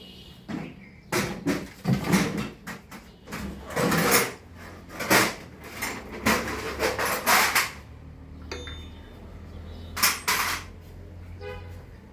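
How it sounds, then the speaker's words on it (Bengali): Mechanic loosening the upper nuts on the head cover of a Royal Enfield Classic 350 during tappet adjustment, irregular metallic clicks and taps near the mic, with a low aircraft rumble in the background. "তো আলী এখন এই উপরের নাটগুলা খুলতেছে আস্তে আস্তে।"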